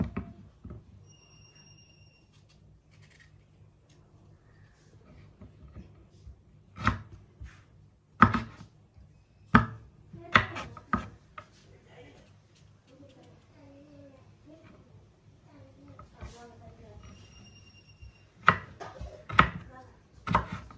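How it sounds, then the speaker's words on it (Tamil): A knife chopping carrots on a board with a series of sharp, close chops, some spaced and some in quick clusters, over a low hum, with a voice speaking now and then. "கேரட் எல்லாத்தையும் வந்து இப்படி வெட்டுவோம்"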